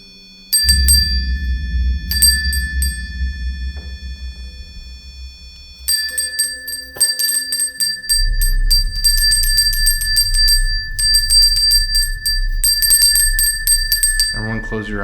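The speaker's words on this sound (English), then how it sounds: "please follow the sound of this bell" A hand bell rung during a ghost hunt in a castle, bright repeated metallic rings in bursts over a low rumbling background, with speech at moments.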